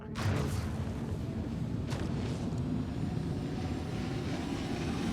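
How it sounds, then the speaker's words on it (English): Ship weapons in the video game Star Citizen on an RSI Scorpius Antares, a heavy rumbling blast at the start settling into a loud, sustained low roar with a second burst shortly after. "Okay, now boost and fire weapons."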